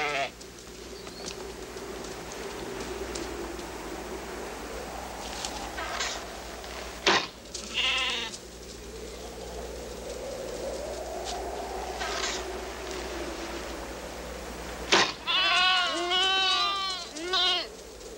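Feral sheep from a flock of about 2000 bleat on island hills, several wavering calls at intervals, some near and some farther off, over an outdoor hum with faint birds and insects.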